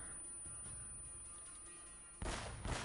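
Sniper fire from the video game Uncharted: Drake's Fortune: two loud, sharp blasts in close succession near the end, after a quiet stretch of faint ambient game sound.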